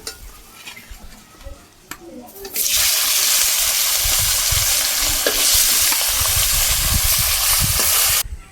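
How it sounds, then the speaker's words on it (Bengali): Pieces of a 2.8 kg rupchanda fish from a home pond drop into hot oil. After a quiet start, a loud broad hissing sizzle bursts up and holds steady for several seconds, close by. "বাকি যে মাছগুলো রয়েছে সব মাছগুলো একইভাবে আমি সুন্দর করে লাল করে ভেজে নেব"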